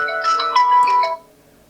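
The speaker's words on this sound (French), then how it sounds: "j'ai mon téléphone qui est là, qui sonne, mais la montre aussi sonne" A phone and a GT4 smartwatch ringing together, a loud bright ringtone melody lasting about a second before it cuts off, heard alone.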